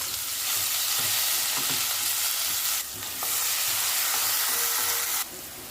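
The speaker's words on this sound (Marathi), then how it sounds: "तेल सुटेपर्यंत आपल्याला हे वाटण भाजून घ्यायचंय" A ground onion and coconut paste, tipped over spluttering cumin and mustard seeds, fries loudly in hot oil. A dense, continuous sizzle dips briefly twice and is dotted with soft stirring scrapes.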